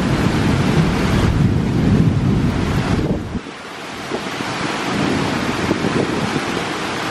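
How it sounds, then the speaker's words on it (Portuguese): Strong outdoor wind buffets the microphone in a loud, rumbling roar. It surges for a few seconds, drops off briefly, then builds again, with no talking. "O vento."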